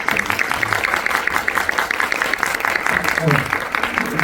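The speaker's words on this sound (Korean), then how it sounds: "우리 곽은희 감독님에 대해 박수 한번 여러분 부탁드립니다." Clapping from a film screening audience for the director at a guest visit event, a fairly close, steady patter with some murmuring voices underneath.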